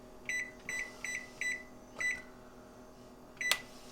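A kitchen appliance timer gives a row of short electronic beeps, five evenly spaced single tones, then a pause and one final beep, fairly quiet over a low background hum.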